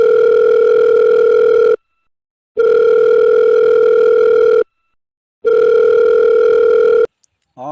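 A telephone ringback tone sounds while a call is being placed: three long, steady electronic tones with silent gaps between them, loud and close, then cut off abruptly at the end.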